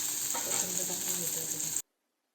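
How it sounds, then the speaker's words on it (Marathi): Green chilies sizzling and frying in a pan for Maharashtrian thecha, a steady close bright crackle with light stirring that cuts off abruptly. "बघा मिरच्यांचा कसा असा आवाज येत आहे एकदम"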